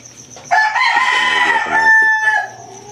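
A golden hen line gamefowl rooster crows once, loud and close, a single drawn-out call over about two seconds with a quieter trailing end and no talk.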